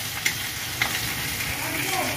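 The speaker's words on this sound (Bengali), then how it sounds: "এই মাছই হচ্ছে এই যে ওখানে ভাজা হচ্ছে" Fessa fish fry in a hot pan with a steady, close sizzle and light crackle throughout, with a couple of soft knocks and no talking.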